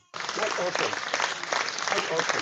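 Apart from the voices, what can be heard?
person clapping hands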